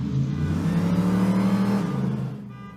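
A 1975 Ford Ranchero drag car's engine revs hard and loud with no rev limiter, holding a high, steady note before dropping away as the revs fall.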